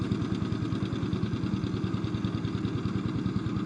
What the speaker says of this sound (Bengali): মাঝি মাত্র ইঞ্জিন স্টার্ট দিলেন।